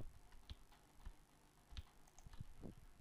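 A handful of soft, sparse keyboard clicks at a computer, with single key taps spaced irregularly over a quiet background and slightly louder presses in the middle and near the end.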